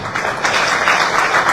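Audience clapping for a government minister at a digital payments launch event in Liberia, a short, steady burst of hands under a busy room.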